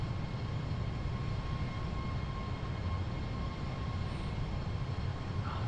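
An Airbus Beluga XL A330-700 departs Schiphol Airport in Flight Simulator 2020, its jet engines giving a steady, continuous roar with low rumble throughout, no voices over it.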